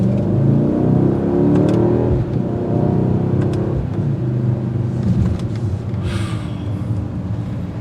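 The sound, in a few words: bi-turbo V8 engine exhaust revving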